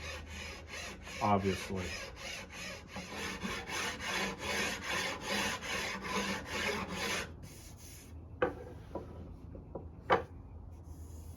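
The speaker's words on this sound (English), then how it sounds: "I always come back with my handy file to smooth everything out" A hand file rasps in quick, even strokes along a wooden reflex bow limb during tillering. The strokes stop partway through, leaving a few faint knocks and brief speech.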